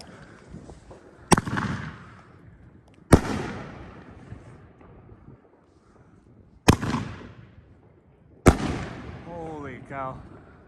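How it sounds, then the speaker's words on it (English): A Pro Fireworks Blind Justice 10-shot 500g cake firing: four sharp, loud launch bangs spaced a couple of seconds apart, each trailing off into crackle, with a voice talking between shots. "here goes the demo of Blind Justice. 10 shot Pro Fireworks."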